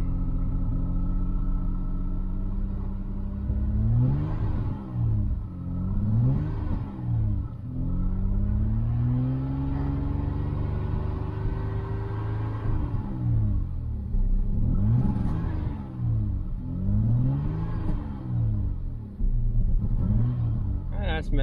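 A Citroën XM V6 engine is revved over and over while idling to warm it up. Each rev climbs and falls back in a steady, close rumble, with about eight throttle blips spread across the stretch.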